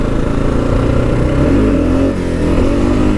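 A 2015 Kawasaki KLR 650 motorcycle accelerates hard for a wheelie, its single-cylinder engine roaring loud and close with a rising pitch, a brief dip near the middle, then pulling strongly again.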